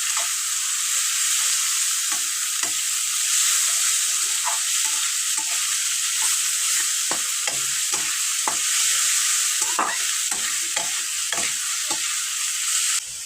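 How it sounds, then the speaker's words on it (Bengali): Chopped onions frying in hot oil in a pan, a steady loud sizzle running throughout, broken by frequent scraping and stirring knocks, with no talk. "পেঁয়াজটাকে এখন আমি লাল করে ভেজে নেব।"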